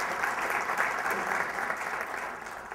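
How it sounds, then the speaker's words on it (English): Audience applause at a district community event, a steady wash of many hands clapping that holds evenly throughout and eases slightly toward the end. "So if you could give a round of applause for Animal Care."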